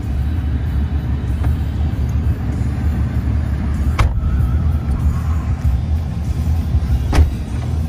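A 2017 Dodge Ram 3500 heavy-duty pickup on a test drive: a steady low road and engine rumble with tyre noise throughout, plus a few brief sharp clicks or knocks, with no talking.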